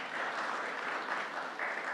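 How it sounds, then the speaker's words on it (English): Audience applause greets a panel at a live health-policy event, steady clapping from a crowd held at an even, moderate level for the full stretch, with no voice over it. "and a round of applause for our panel,"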